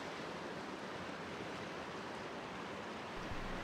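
Turbulent river water rushing past the remains of an old mill race on a salmon and sea trout stretch, a steady, dense, close roar of broadband flow with no break, alone without voices.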